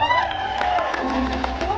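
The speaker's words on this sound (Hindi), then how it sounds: "अपने लिए तालियां हो जाओ एक बार जोर से" Crowd at a movie promotion event cheering and whooping with scattered clapping, loud and close, voices shouting over a low rumble.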